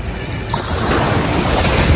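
Large sea waves surging at the shoreline in the morning, a loud continuous wash of surf mixed with wind buffeting the microphone, building slightly toward the end with no voices.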